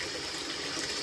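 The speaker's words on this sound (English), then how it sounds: "turn this off now. And the hot water off, don't need that on." Hot water runs from a household tap in a steady, faint hiss and trickle, uniform and unbroken for the whole moment.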